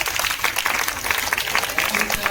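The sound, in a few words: audience applause at quiz competition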